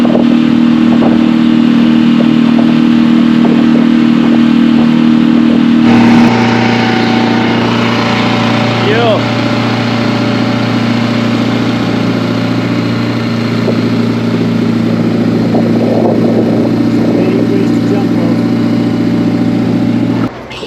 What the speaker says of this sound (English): Engine wouldn't start. So I've come back, spoke to the chap